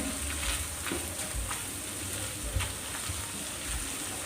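Cashew and coconut paste frying in oil over low heat for a fasting-day vegetable dish, a dense continuous sizzle with small crackles and occasional soft stirring bumps, close and steady.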